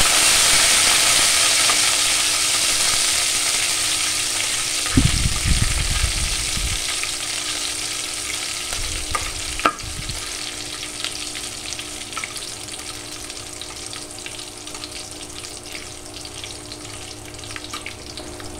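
Spices sizzle steadily in hot oil as a tempering is fried for yogurt panta, with a few louder bursts of stirring partway through; close and continuous, with no voices.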